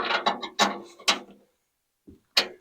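Wrench tightening 9/16 bolts on a snowblower, giving several sharp ratcheting clicks in quick succession, a pause, then a couple more close clicks.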